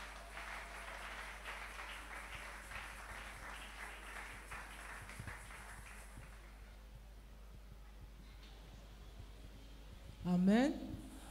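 A church congregation applauds during a Christmas worship service, a steady rolling patter of clapping that fades after several seconds, with a brief voice rising at the end.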